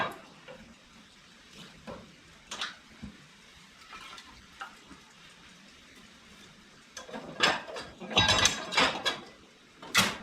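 Small pieces of wood clatter and knock into the firebox of a wood cook stove while biscuits bake, with a few sharp clunks early on and a louder cluster of thumps and scrapes near the end.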